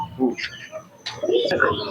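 Racing pigeons at a high-flying pigeon tournament coo softly close by in low, throaty bursts, mixed with people talking and brief higher chirps and clatter in the background.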